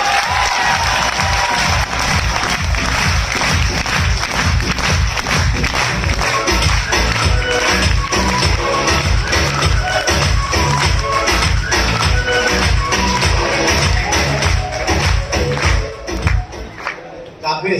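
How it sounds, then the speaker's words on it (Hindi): A large audience claps at a live speech event in Agra, loud continuous applause with rhythmic thumping and some cheering, sustained for most of the stretch before thinning out near the end. "तालियां बज रही तो जरा अच्छे से बजे तो मजा आएगा।"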